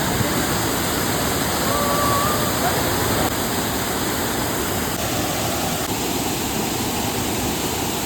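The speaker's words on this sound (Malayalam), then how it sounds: "ഈ വെള്ളച്ചാട്ടത്തിൻ്റെ ആ ഒരു ശബ്ദം?" A forest waterfall roars in a steady, dense, unbroken rush, loud and close, filling the whole stretch with no breaks and no talk.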